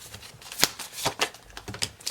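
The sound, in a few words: shuffling tarot cards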